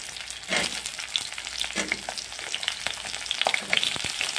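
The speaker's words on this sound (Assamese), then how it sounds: "এতিয়া দি আছোঁ এটা আলুখিনি তেলত অলপ ভাজি ল'ম" Cut potatoes fry in hot oil for an Assamese fish curry, a steady close sizzle with crackling bursts and occasional stirring clicks, without voices.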